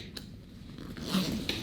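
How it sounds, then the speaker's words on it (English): Large zipper on a WAYKS ONE travel backpack being undone, a soft rasping pull with a brief catch, close and fairly quiet. "if you undo this zipper, this big old zipper right here,"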